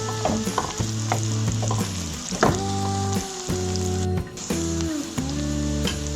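Onions sauté in a pan for a courgette (torai) dish, a steady sizzle with scattered stirring scrapes, while tonal hums rise and fall alongside it.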